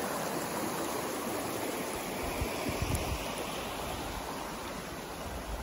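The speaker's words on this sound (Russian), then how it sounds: "Ничего себе поток бурлящий." Spring meltwater stream in full flow makes a loud, continuous rushing and bubbling roar that fills the whole stretch with no pauses.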